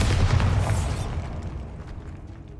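A Bombarda spell explosion in the video game Hogwarts Legacy, a loud booming blast up front that rumbles and fades away over a couple of seconds, with no voices.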